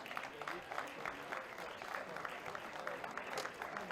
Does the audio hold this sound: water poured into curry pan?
no